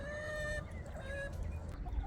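Hens cluck softly and murmur nearby over a steady background hum, with a few higher calls rising over the low, continuous noise.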